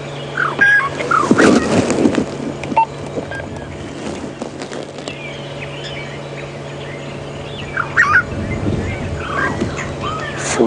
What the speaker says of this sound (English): For now, it's just a few Birchall starlings that I can hear calling.